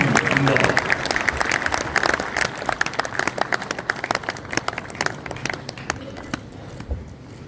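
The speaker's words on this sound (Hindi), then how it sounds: "जोरदार तालियों के साथ स्वागत करें इंदौर।" Loud, dense audience applause fills a ceremony hall as Indore is welcomed for its seventh win of the cleanest city award, a steady wash of many hands that thins toward the end.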